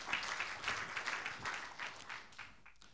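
Scattered clapping from a church worship service congregation, a steady patter of applause that thins out toward the end.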